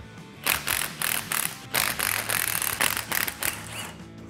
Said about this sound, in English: we're gonna go ahead and remove the 3 bolts on the